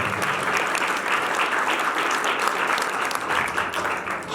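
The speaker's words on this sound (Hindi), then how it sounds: "अपने लिए जोरदार ताली दीजिए।" Congregation at a deliverance church service applauding, a dense, steady roar of many hands clapping at once, loud and sustained throughout.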